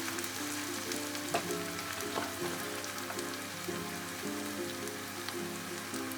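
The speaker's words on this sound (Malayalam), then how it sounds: "കുറച്ച് മഞ്ഞൾപ്പൊടി ഇട്ട് നന്നായി വഴറ്റുക." Onions sautéing with turmeric and spices in a pan for a chicken roast, giving a steady, close sizzle with occasional stirring clicks, under a continuous melodic backing and with no talking.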